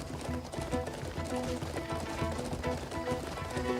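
A horse galloping in the Crimson Desert video game, a steady rhythmic clip-clop of hooves at a fast pace, moderately loud and continuous, with faint music underneath.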